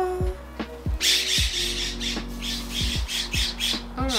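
Birds fighting outdoors give harsh, repeated squawks in quick irregular bursts, loud and close, with several overlapping calls.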